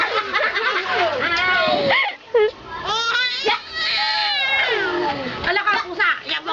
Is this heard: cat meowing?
yes